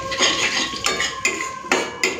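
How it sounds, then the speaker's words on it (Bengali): Black cumin (nigella seeds) tempering in a hot pan, heard as clattering metal utensil scrapes and clinks in four or five separate bursts with brief pauses between them, fairly close and moderately loud, with no voices. "ফোড়ন দিচ্ছি কালো জিরে"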